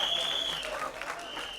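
Audience clapping at a film trailer launch event, a dense burst of applause from a crowd filling the short moment, loud and continuous with a whistle-like tone over it.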